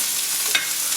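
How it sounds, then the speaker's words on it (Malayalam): Chopped green chili and onion hit hot coconut oil, producing a brief, close, even sizzling hiss. "എണ്ണ ചൂടായി വരുമ്പോൾ അതിലോട്ട് ചെറുതായിട്ട് കട്ട് ചെയ്ത പച്ചമുളക്, ഈ സവാള ഇതങ്ങ് ഇട്ട് കൊടുക്കാം."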